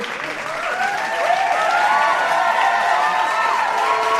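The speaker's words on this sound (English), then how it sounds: "Give a round of applause for our next comedian, a Mr. Grayson Zaire." Audience at a comedy club applauds steadily with some cheering and whoops, a dense crowd clapping that builds and stays loud with no talk over it.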